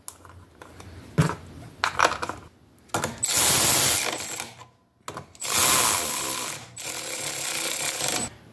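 Seat screws being driven back into a Yamaha PW50 motorcycle with a power tool, heard as a few short clicks and then three loud whirring runs of a couple of seconds each, close up, with brief gaps between them.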